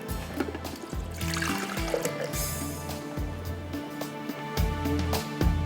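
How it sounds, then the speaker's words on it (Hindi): Water trickles and pours steadily into a pot, a loud continuous splashing flow with some clanks of metal close by. "चलिए जी, थोड़ा सा पानी डालेगा।"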